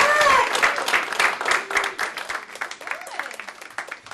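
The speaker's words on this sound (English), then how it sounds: "please make a big round of applause for Mr." A theater audience at RP Funding Theater claps and whoops to welcome a singer, with dense, steady applause and scattered cheers and shouts rising above it, loudest at the start and easing slightly.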